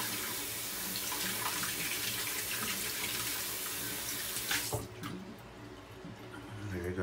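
A tap runs steadily as water is used for rinsing, a close, continuous splashing gush that stops abruptly partway through, leaving faint drips and quiet room sound.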